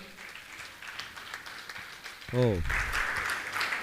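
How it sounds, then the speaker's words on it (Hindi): A crowd claps steadily, with a brief spoken exclamation cutting in as the applause swells louder. "जोरदार तालियों से इनका सम्मान करें।"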